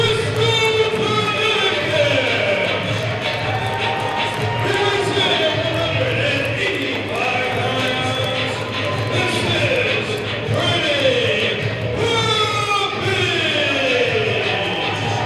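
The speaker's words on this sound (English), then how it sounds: "Listen to the crowd." A wrestling crowd at the Real Folk Blues 2024 event, during the Sgt Fury versus Pretty Papi match, keeps up a steady, loud roar of voices for the whole stretch, with a commentator talking over it.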